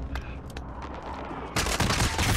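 Gunfire in the video game Call of Duty: Modern Warfare during a Halloween zombie match, with a quieter stretch of scattered shots breaking into a loud, dense burst of rapid fire near the end.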